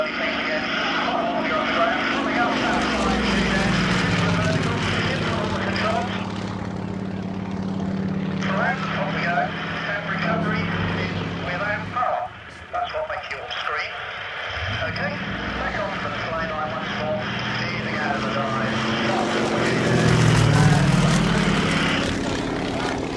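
A Yak 52 propeller aircraft drones steadily through an air display, its engine pitch rising and falling as it turns back along the display line, with someone talking over the engine noise throughout.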